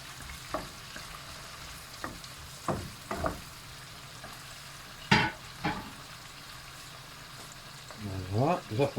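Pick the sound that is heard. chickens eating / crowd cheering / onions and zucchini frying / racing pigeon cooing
onions and zucchini frying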